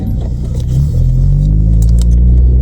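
A VW Vento with a suspected gearbox fault pulls away from a junction. Its engine rumble swells and deepens as it moves off, close and steady inside the cabin, with light jingling rattles on top.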